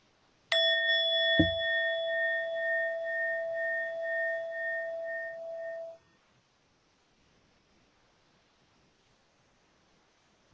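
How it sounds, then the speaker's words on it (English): A single meditation bell is struck once and rings out with a clear, sustained pure tone that fades away over several seconds, followed by quiet. "We'll start with one sound of the bell."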